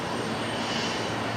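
A Jetstar Airbus A320 jet touches down on runway 01 right at Brisbane airport at night, a brief steady engine roar with a broad rushing hiss, moderately distant and without voices.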